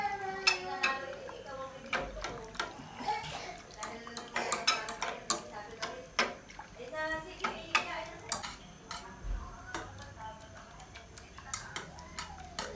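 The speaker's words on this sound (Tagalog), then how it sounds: "Haluin mo na ng pa-circle." A utensil stirs fishball sauce round and round in a pot, producing repeated metallic scrapes and clinks close by in an irregular rhythm, with voices talking intermittently over the stirring.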